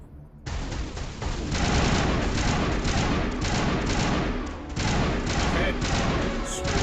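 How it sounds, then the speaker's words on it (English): Dense, rapid gunfire from the Mass Effect 1 video game rattles almost nonstop after a brief quiet start, loud and close with thudding impacts and only a short lull near the end. "Why are you shooting?"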